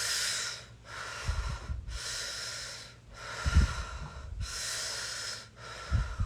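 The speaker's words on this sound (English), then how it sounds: "Last few, breathing in fully and completely." Slow, deep meditative breaths rise and fall in long, even cycles, each inhale and exhale a broad airy rush, close and quiet, with soft low thumps between them.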